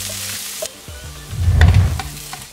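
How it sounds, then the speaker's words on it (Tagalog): Minced garlic and red onion sizzle in hot oil in a pan, a burst of frying and stirring swelling up in the middle and then settling, with a few clinks of the pan and no talking. "Maggigisa tayo ng minced garlic. Then, red onion."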